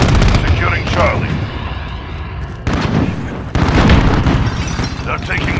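Rapid gunfire and explosions crackle through a Call of Duty: Modern Warfare Domination match, with loud, dense bursts of shots running almost without pause and radio-style voices calling out over the combat.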